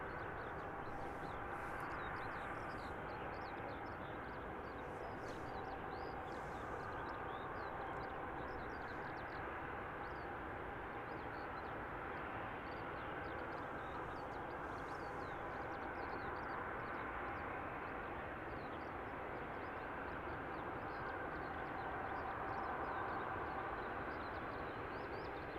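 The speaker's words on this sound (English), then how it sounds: "We're looking at Wizz Air flight 4551, about to touch down from Larnaca." A Wizz Air passenger jet arriving from Larnaca touches down at Luton Airport, heard as a steady, faint, distant broadband roar that holds level throughout.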